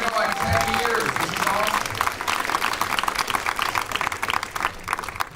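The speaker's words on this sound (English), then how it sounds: "Everybody give Tamara a round of applause." A premiere Q&A audience applauds with dense, continuous clapping and some crowd noise. A voice talks over it near the start, and the clapping carries on, slightly thinner, to the end.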